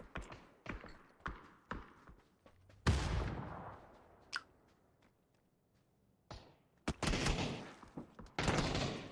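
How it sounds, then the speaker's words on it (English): Gunshots in the battle royale game PUBG, scattered sharp cracks and short bursts at varying distances, some faint and some loud, with quieter gaps between them. "there's 2 shots coming through"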